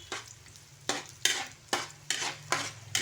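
Garlic frying in a pan: a quiet sizzle underneath five or six sharp, evenly spaced stirring scrapes of a utensil against the pan, close and clear, with no talk.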